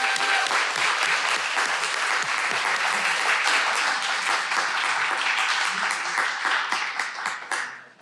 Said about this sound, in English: Please join me in another round of applause for our graduate students.